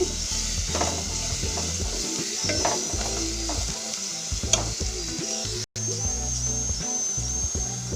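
Sliced onions and green chilies fry in a pan for a green beans coconut fry, with a loud, continuous sizzle and hiss and intermittent spatula stirring close by, no voices.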